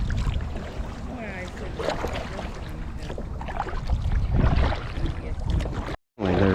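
A kayak is paddled across Webb Lake in gusty wind, with steady water splashing and paddle strokes under constant wind buffeting on the microphone, and people talking intermittently.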